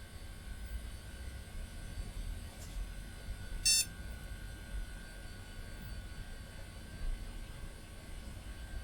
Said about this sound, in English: You can hear the hard drive yourself.